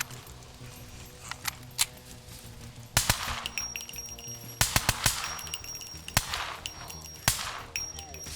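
Gunfire from the survival video game SCUM, several sharp single shots and short bursts scattered across the clip over a low ambient game backdrop, fairly loud and close.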